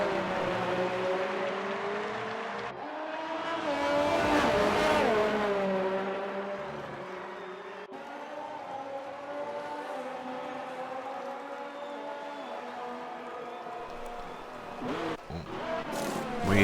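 In a Codemasters racing game on the Spain circuit, a Ferrari race car engine whines at high revs and swells as it passes. Quieter engine whirs follow, with a few sharp blips near the end.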